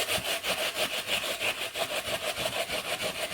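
A white onion being grated for cassava dough gives a quick, even rhythm of close rasping strokes, about four per second, with no talking.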